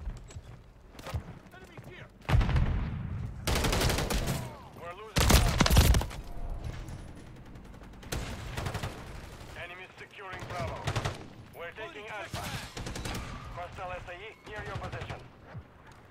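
Loud bursts of automatic gunfire in a video game come in several heavy volleys with pauses between, while a player's voice and in-game voices talk throughout.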